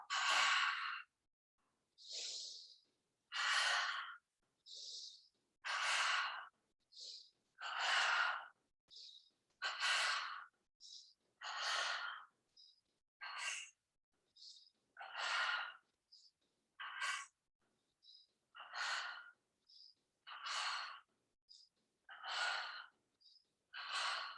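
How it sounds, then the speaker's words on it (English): Paired breathing exercise, two short inhales through the nose and two exhales through the mouth, repeated in a steady rhythm; close, airy breath bursts alone with no talk. "Inhale through the nose, exhale through the mouth. So it's short and long, 2 breaths in, 2 breaths out."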